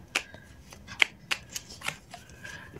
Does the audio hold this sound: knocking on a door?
no